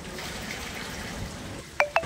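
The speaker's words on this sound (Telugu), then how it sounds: "డేక్షాలో 24 డబ్బాలు నీళ్లు పోసారండి" Water is poured from a measuring can into a large cooking pot for making semolina vadiyalu, heard as a soft, continuous rushing flow followed by two brief sharp clinks near the end.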